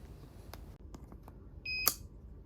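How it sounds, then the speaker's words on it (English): An IoT door lock buzzer gives one short, high electronic beep near the end, clear and close after a stretch of quiet background with faint clicks. "if the password is correct, the buzzer is high, so it will alarm in short beep"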